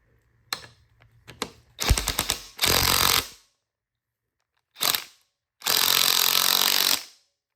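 Bolts on motorcycle hand guards for hard enduro riding are tightened with a power tool. A few short ratcheting clicks lead into several loud, buzzing bursts of the tool, separated by silent pauses.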